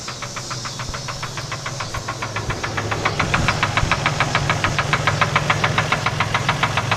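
A blown engine in a Toyota 4Runner knocks in a fast, regular metallic clatter over its idle, growing louder and harsher midway through, with no voices.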